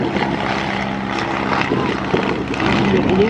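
A Waco UPF-7 biplane with a Continental engine flying at an airshow, its propeller engine droning loudly and steadily nearby, with people talking underneath.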